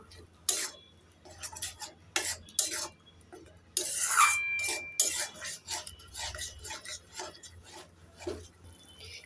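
Bengali fish curry with yogurt being stirred in a pan, giving a run of scraping, clinking utensil strokes against the metal at close range, with no talk over them.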